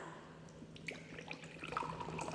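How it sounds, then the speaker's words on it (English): Water is poured from a filled water bottle into a glass, a faint, close trickle and splash of liquid with small irregular drips, with no talking over it. "I'll pour this water in a glass"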